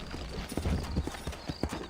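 Horse hooves clip-clop at a steady, close gait in the Red Dead Redemption game, set in New Austin, as a short, continuous run of hoofbeats with no talking.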